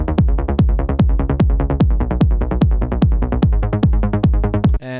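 A trance track's 1/16 rolling bass rhythm, rapid repeated low bass notes with pitch-dropping punchy kicks falling on each beat, loud and relentless, cutting off near the end.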